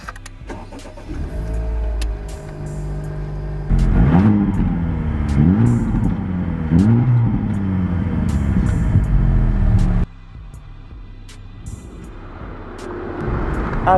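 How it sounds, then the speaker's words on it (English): A Honda Civic Type R FL5 with its 2-litre turbocharged four-cylinder petrol engine drives on the road, revving hard through several rising pulls with gear changes. The engine note is loud and close, then settles to a quieter cruise. No talking. "I get the same 2-litre turbocharged 4-cylinder petrol as before"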